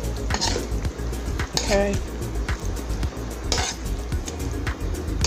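Food being flipped and stirred in a pan, with scattered clinks and scrapes of a utensil against the cookware and a faint sizzle underneath, while a person talks over it.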